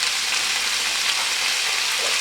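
Bacon and onions frying in a pan, a steady bright sizzle and crackle that stays loud and even throughout, with no voices over it.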